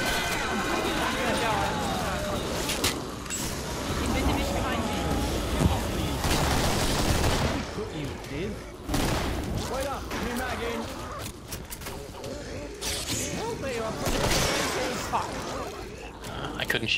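Scattered gunshots and booming weapon fire in the Killing Floor co-op shooter, irregular bursts spread across the stretch, mixed with game noise and frequent talking over the top.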